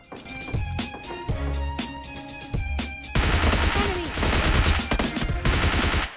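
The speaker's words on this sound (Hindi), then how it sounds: "इसका टीममेट तो कतई कवर फायर देने में लगा पड़ा था" Dense gunfire in the mobile battle-royale game PUBG Mobile Lite, with separate bursts giving way to sustained automatic fire and overlapping shots from several weapons, loud and continuous with game music underneath.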